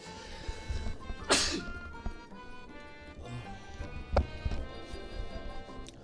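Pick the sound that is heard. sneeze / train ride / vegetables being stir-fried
sneeze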